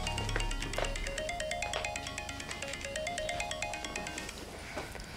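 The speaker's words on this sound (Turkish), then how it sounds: "telefonun çalıyor" A phone ringtone plays continuously, a repeating melodic tune ringing steadily and fairly loud throughout, in a Turkish drama series scene.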